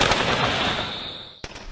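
Soldiers firing rifles at targets in the dark on a range: dense, sustained rattle of shots that fades out, then a couple of sharp, loud reports after a brief pause.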